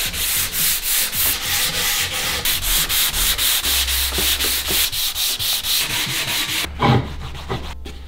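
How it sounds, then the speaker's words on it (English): Rhythmic back-and-forth strokes of 240 grit sandpaper on a block across a wooden campervan interior panel, loud and close, with about two strokes a second, briefly pausing near the end before resuming. "get a nice uniform finish over the entire surface with a bit of 240 grit on a block and always sand"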